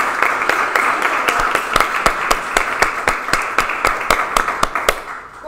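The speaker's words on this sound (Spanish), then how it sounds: "Un fuerte aplauso." At a talent show contest, an audience applauds a contestant with sharp, evenly spaced claps in a steady rhythm. The clapping fades out at the end.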